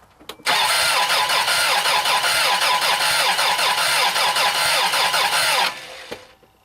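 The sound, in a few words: mud motor engine cranking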